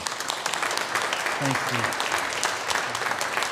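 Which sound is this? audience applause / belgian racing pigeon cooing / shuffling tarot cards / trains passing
audience applause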